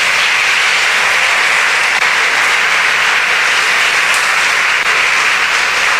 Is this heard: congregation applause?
yes